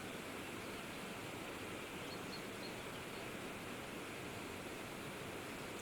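A waterfall pours in a constant, even hiss of rushing water, steady and unbroken throughout.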